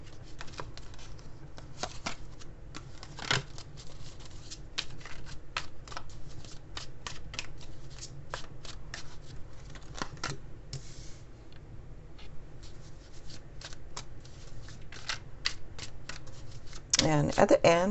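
Tarot cards are shuffled and riffled repeatedly throughout, a steady run of soft papery flicks and snaps up close, growing louder near the end, with no talking.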